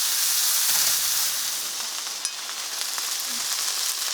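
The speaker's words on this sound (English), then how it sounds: "those burgers have been frying for about 3 minutes on this first side" Sirloin burgers fry in oil in a skillet with a steady, close sizzling hiss throughout, broken by a few faint pops and light clinks, no voices.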